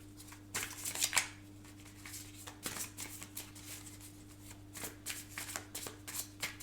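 A deck of tarot cards is shuffled and dealt, making close, soft riffling bursts and papery slaps as cards are laid down, over a steady low electrical hum with no talking.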